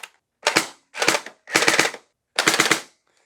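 An SRB400 gel blaster with a drum magazine fires four quick bursts of rapid automatic shots. Each burst lasts a fraction of a second and is separated by brief silences. The blaster is loud and close, with no voices.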